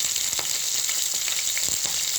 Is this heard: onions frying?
yes